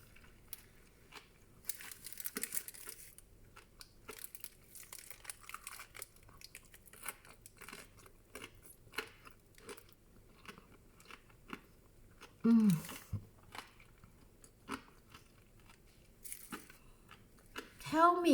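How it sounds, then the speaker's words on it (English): Crunchy homemade Popeyes-style fried chicken sandwich bitten and chewed up close, with repeated crisp crunches scattered through the quiet and a few sharper bites near the end. "Let's hear if there's any crunch."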